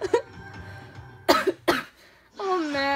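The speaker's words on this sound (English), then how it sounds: "Oh man, I'm so scared I'm coughing." A person coughs several times in short, sharp bursts with gaps between them, close to the mic, followed by a voiced sound at the end.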